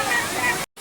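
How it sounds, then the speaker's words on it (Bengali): The waterfall at Rock Garden in Darjeeling gives a steady, full rush of falling water close by, with voices faintly in the background. The sound cuts off abruptly near the end. "দেখো কি সুন্দর রক গার্ডেনের ঝর্ণা।"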